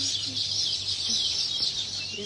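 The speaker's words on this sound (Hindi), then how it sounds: "बहुत ज्यादा चहचहाने की आवाज आ रही है।" Dense, continuous chirping from many small birds fills the air in a high, bright chorus, steady and fairly close, with a low background hum underneath.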